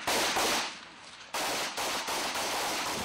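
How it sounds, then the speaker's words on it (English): Dense automatic gunfire rattles through the Colombian jungle, loud and close, in sustained bursts broken by a brief lull before resuming. "In the jungles of Colombia, bullets are still flying."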